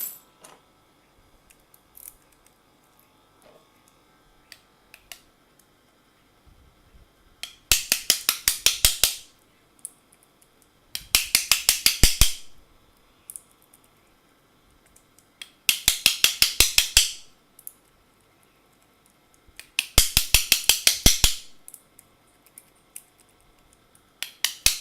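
A bump key is struck repeatedly in an Abus deadlock cylinder. Four separate bursts of rapid, sharp metallic clicking and rattling come close up, with near-silence between them.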